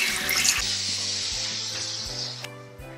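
Sorrel leaves being washed under running water in a kitchen, a steady splashing stream with rhythmic swishing pulses close by, with no talking.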